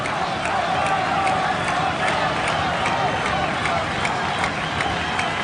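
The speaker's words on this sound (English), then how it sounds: "Puerto Rican crowd making a heck of a noise." A Puerto Rican crowd roars at a boxing match, a steady, loud wall of cheering and babble with scattered clapping running throughout.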